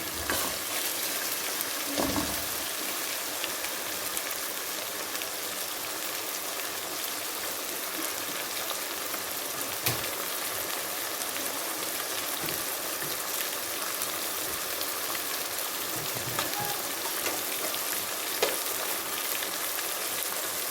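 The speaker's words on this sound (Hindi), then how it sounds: "और अब इसको मैंने तब तक फ्राई करना है जब तक कि इसका कलर सुर्ख ना हो" Chicken fries with cinnamon and cardamom in a pot, giving a steady, moderately loud sizzle and bubbling hiss throughout, with a few faint clinks of stirring.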